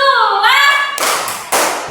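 A fifth-grade primary school class claps together in a rhythm game, with two loud group claps about half a second apart after a child's or teacher's voice at the start.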